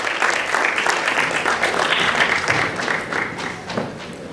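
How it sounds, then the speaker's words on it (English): An audience at the opening of a schools drama festival gives a full round of applause, dense and loud throughout, then tapering slightly at the end. "Let us give the festival a round of applause."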